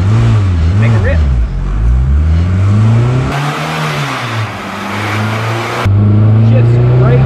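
A car engine revs hard while driving, the pitch climbing and dropping through gear shifts, loud and close, with an abrupt change in tone partway through.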